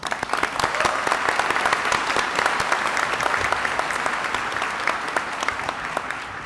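Commencement audience applauds steadily, a dense wash of many hands clapping that holds at full strength from start to finish, fading only slightly near the end.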